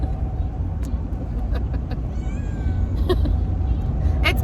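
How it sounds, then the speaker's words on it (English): A cat gives several short meows inside a vehicle on the road, heard over the constant low rumble of the moving car. "With a cat that won't shut up."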